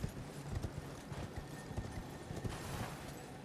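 Horse hooves clip-clop in a steady rhythm while riding through an eerie area in the video game Elden Ring, a continuous close patter under low ambient game sound.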